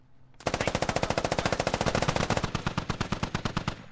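Sustained automatic gunfire bursts out in a tactical shooter game, a rapid even stream of loud shots lasting several seconds with no voices over it.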